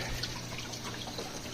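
A chiller pump on a DIY cold plunge runs with water flowing and trickling steadily, a constant low hum beneath the soft splashing.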